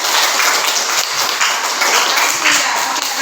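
Classroom of students applauding a classmate, a continuous loud patter of many hands clapping at once, with faint voices mixed in.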